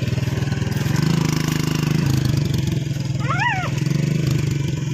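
A motorcycle engine idles nearby with a steady low rumble throughout, rising slightly at moments, while a brief high chirping sound and background noise occur around it.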